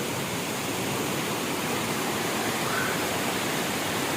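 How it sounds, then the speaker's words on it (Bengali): A waterfall on a hillside near Kuala Lumpur roars in a steady, dense rush of water that stays loud and constant throughout, with no voices over it. "ঝর্ণা।"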